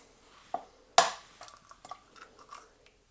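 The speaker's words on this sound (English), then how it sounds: "take your 3 eggs and break them into a jug" Three eggs cracked against a jug in a home kitchen while baking a cake: a light tap, then a sharp crack, followed by a few soft clinks and small wet drips, all close and fairly quiet.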